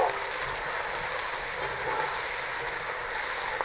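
Chopped tomatoes sizzling in a hot frying pan for butter chicken, a steady, loud, even hiss of frying that continues without pause and without talking.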